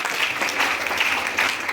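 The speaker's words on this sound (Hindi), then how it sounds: "वो जोरदार ताली तीनों के लिए होता है।" Applause from a seminar audience, a steady crackle of many hands clapping together with no voices over it.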